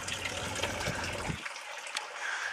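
Continuous soft splashing and trickling of water from small garden fountains on a mansion estate, steady and fairly faint, with a low rumble dropping away midway.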